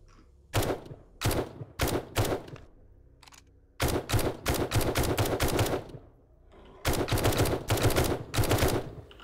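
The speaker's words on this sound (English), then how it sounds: "Should I take a few pot shots on the bear?" Rapid bursts of gunfire aimed at a bear in the video game 7 Days to Die, loud and close, fired in three clusters of quick repeated shots with short pauses between them.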